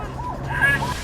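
A police car siren sounding at an intersection while the car runs a red light through traffic, a brief wailing tone at moderate distance over road noise.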